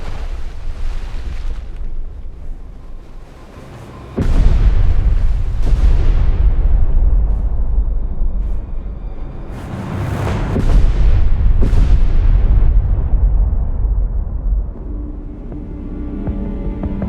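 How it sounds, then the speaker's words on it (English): Depth charges detonate in the naval game Destroyer: The U-Boat Hunter, deep rumbling booms rolling in several waves over a continuous low roar, loud and heavy with long decaying tails. "Ready depth charges. Fire medium pattern."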